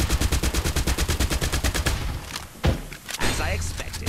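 Rapid automatic gunfire in the mobile shooter Farlight 84, a fast regular burst of shots for two seconds followed by heavier thuds and scattered impacts, with in-game voice lines over it.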